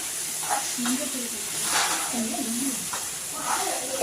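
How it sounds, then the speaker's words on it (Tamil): Eggplant sautés in a hot pan, a steady soft hiss and sizzle running under a voice talking throughout, with occasional stirring scrapes. "கத்திரிக்காய் போட்டு நல்லா வதக்கணும் கொஞ்ச நேரம்."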